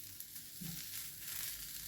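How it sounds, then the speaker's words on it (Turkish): Turkish-style meatballs fry in hot oil in a pan, giving a steady, close sizzle with soft crackling that continues throughout, with no talking. "tavada kızgın yağda da kızartabilirsiniz"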